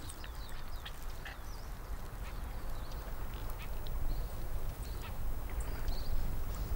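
Many migrating birds call and quack against a constant low background roar, a busy flock resting on Shedao island, heard at moderate distance.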